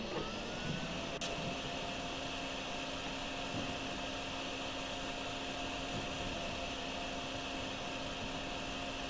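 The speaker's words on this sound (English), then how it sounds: "we're gonna have to vacuum all of this" A vacuum running over a floor in the video game Drain Simulator gives a steady, continuous mechanical whine and hum throughout, fairly quiet, with no voices.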